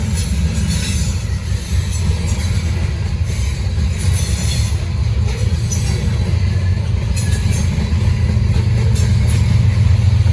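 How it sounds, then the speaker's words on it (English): A Norfolk Southern freight train rolls past at night, a loud, steady low rumble of wheels and cars with faint squeals and rattles on top, no voices. "first train of the night"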